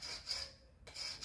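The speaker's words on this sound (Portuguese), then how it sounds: "com a ajuda de um carrilho, que é essa ferramenta aqui, ó, você vai estar lixando a lateral aqui, ó, de cada peça" A hand tool sands the side edges of a 3D plaster panel piece in two raspy strokes, each a scratchy rub, near and fairly quiet, with no talk.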